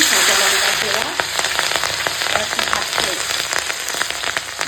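Panch phoron spices hitting hot mustard oil left from frying catla fish, a loud, steady crackling sizzle with dense popping spatters that gradually settles to a softer hiss.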